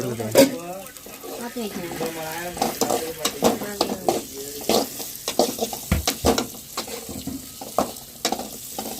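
Dried fish sizzle and crackle in a pan close by, with irregular scraping and clattering from stirring throughout.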